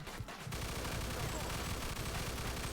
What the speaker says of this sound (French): Tu vois la mitrailleuse au balcon?